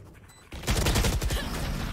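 Gunfire in a tactical shooter video game, with a quiet stretch followed by a loud, sustained burst of rapid automatic shots and fusillade that continues to the end, close and dense with no talk over it.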